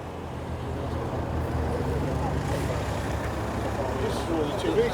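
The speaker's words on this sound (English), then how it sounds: "MX-5 leaving." A Mazda MX-5 pulls away at an outdoor car show, a moderate engine drone mixed into general crowd and traffic noise, with people talking in the background.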